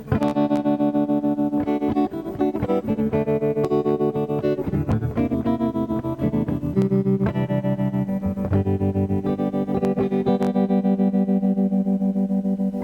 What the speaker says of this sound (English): Tremolo was when it was going in and out, in and out, in and out.